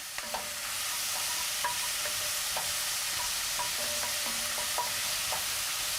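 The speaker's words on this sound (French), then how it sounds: "maintenant je fais revenir les oignons" Onions sautéing in a pan after browning meat, a steady sizzle broken by repeated stirring scrapes and light taps, close and even throughout with no talking.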